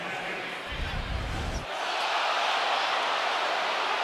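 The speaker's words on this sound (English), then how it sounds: "You just heard the crowd reaction." A basketball arena crowd at a Texas Tech vs Duke game reacts to a disputed basket call near the backboard. Low thumps come first, then a loud, sustained roar swells and holds, with commentators talking over it.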